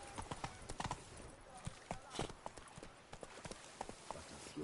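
Roach the horse gallops in The Witcher 3, rapid rhythmic hoofbeats clopping close and steady with a brief whinny, while someone talks over the game sounds.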